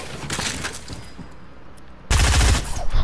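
An exotic weapon fires in the Fortnite video game: scattered, rapid shots, then a sudden loud, dense burst of close gunfire near the end, with no voices over it.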